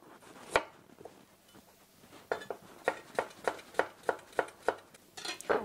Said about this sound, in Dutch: De gember moet nog even snijden.